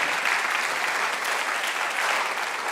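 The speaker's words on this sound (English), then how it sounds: "Can we give the whole panel a round of applause and say our appreciation?" A church gathering applauds its panel, many hands clapping in a thick, even roar that holds at full strength throughout.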